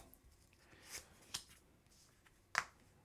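A deck of Marvel Champions playing cards being shuffled by hand, quiet and close, with a few crisp riffle snaps spaced apart over near silence.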